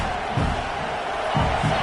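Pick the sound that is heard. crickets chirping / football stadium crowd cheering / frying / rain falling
football stadium crowd cheering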